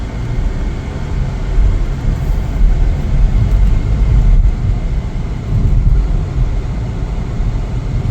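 2024 Chevrolet Trax 2RS car on a test drive, a loud steady cabin drone of engine and road rumble that rises and falls gently, continuous and close with no talk.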